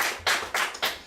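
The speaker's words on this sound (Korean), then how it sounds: "그렇게 되도록 우리 한번 격려의 박수 한번 부탁합니다." Church congregation clapping in encouragement during a Sunday service, a few slow, distinct claps in a steady rhythm, fairly close and brief.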